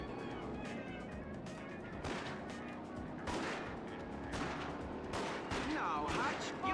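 Gunfire rattles in busy volleys during a light gun video game, dense and continuous, with a voice talking underneath amid game effects.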